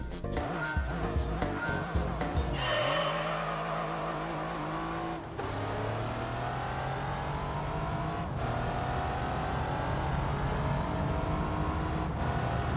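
Mazda Miata engine in Gran Turismo 3 on PS2, a steady droning hum with rising pitch through the gears, some tire noise and brief revs near the start, continuous and fairly loud.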